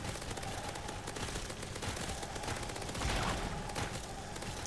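A minigun in the Roblox zombie game Zombie Rush Survival fires as one continuous, faint, even roar of rapid gunfire that holds steady for several seconds.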